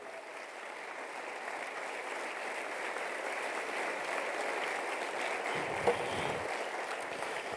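A church congregation applauds in one steady, sustained wash of clapping heard from a distance, holding at an even level for several seconds without speech.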